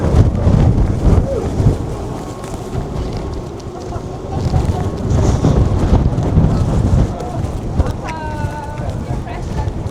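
Strong, storm-like wind roars across a microphone on the deck of a ship in Antarctica, with spray or snow blowing past. The gusting is loud and continuous throughout, with voices faintly heard in the background.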